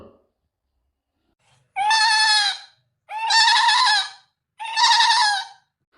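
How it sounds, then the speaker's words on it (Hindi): Goats hidden together inside a house bleat three times in a row, each cry long, nasal and wavering, with short pauses between them and no other sound. "इन दोनों ने घर में ढेर सारी बकरियों को छुपा रखा है। इन्हीं की मिमियाने की आवाज आ रही है।"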